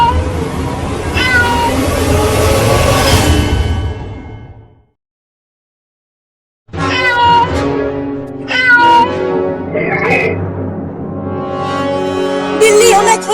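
A cartoon cat meows in a comic Hindi Holi-festival scene, with cries stretching across the clip and cut by a gap of silence halfway through, over music and other sounds from the cartoon.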